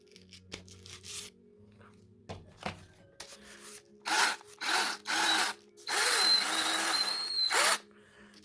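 Sandpaper worked by hand across a car headlight lens, starting with a few scattered scrapes and then building into a run of loud, close, rhythmic rasping strokes.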